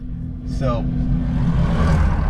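Trucks on US Highway 183 in Nebraska rush past close by with a loud roadside roar, one whooshing by early, amid steady traffic noise.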